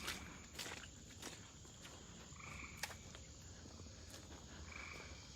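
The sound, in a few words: tree frogs croaking on the Meramec River floodplain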